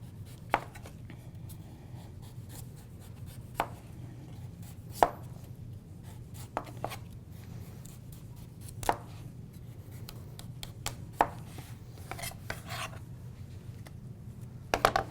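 A knife chops through a dense root vegetable on a cutting board for roasted root vegetables, sharp irregular knocks spaced a second or two apart over a steady low hum, close and fairly quiet.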